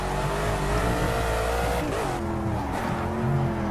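A simulated race car in Project Cars on a tricky track, engine roaring loud and continuous with shifting revs and a brief squeal of tires, alone without talk.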